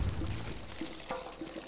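Water pours in the video game Worms Revolution, a soft, continuous splashing wash lasting under two seconds, fairly quiet and alone.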